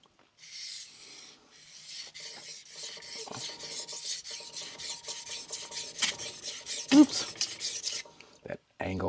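A Victorinox R.H. Forschner hard stainless chef knife scrapes rhythmically across a King NEO 800 whetstone, close-up repeated rasping strokes with occasional light clicks of the blade.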